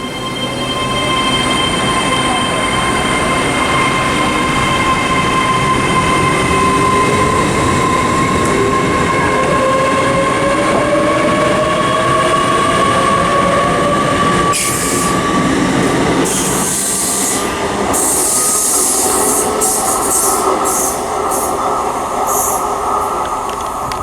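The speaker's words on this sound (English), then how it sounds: "This train's running on electric." A loud electric passenger train, unit 800 317, hums and whines as it pulls away from Bristol Parkway station, its pitch climbing steadily, with wheels squealing and clattering over the rails later on.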